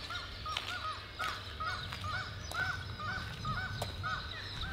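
Arctic seabirds calling in repeated harsh, crow-like caws at a steady pace, fairly distant over a constant low rumble of wind or sea.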